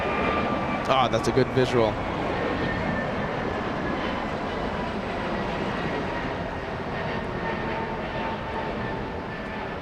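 A Delta airliner in More to Love livery rumbles past at Los Angeles International Airport, a steady low jet roar with a faint whine, as a voice speaks briefly near the start.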